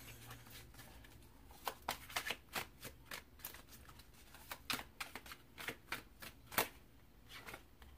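A deck of tarot cards is shuffled by hand in a quiet room, with repeated crisp riffling bursts and soft flicks that come in an irregular rhythm, heard close and alone without talk.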